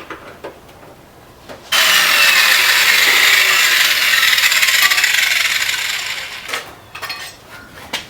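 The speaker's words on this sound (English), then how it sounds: "I just got to drill some holes." A power drill whines steadily into sheet metal of a Subaru WRX STi quarter panel for several seconds, close and loud, with a few short clicks and knocks before and after.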